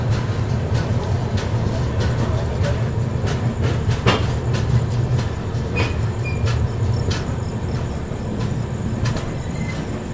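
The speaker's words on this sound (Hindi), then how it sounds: "निकल चुकी अपनी ट्रेन जो है प्रयागराज चियोकी से" Patliputra SF Express pulling out of Prayagraj Cheoki, heard from on board as a steady low rumble of wheels with faint rhythmic clicks over rail joints and occasional sharp squeaks, continuous and even throughout.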